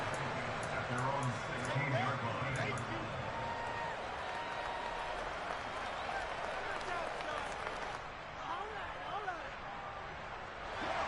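Stadium crowd noise at an NFL Eagles–Falcons game, a broad steady roar with scattered claps and shouts while a commentator talks over it.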